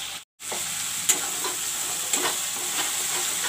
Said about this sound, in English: let the masala fry